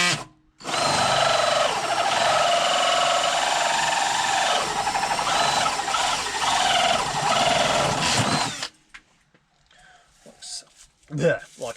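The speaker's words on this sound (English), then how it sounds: "So first things first, I'll cut a hole out of it." A bandsaw cuts a hole in a garage workshop, a loud, sustained whining buzz that wavers as the cut proceeds for about eight seconds, then stops, leaving faint clatter and rustling.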